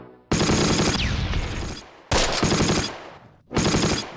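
Bursts of machine gun fire from the WW2 strategy game Close Combat, three loud sustained volleys separated by short pauses, rattling and dense, with no talk over them.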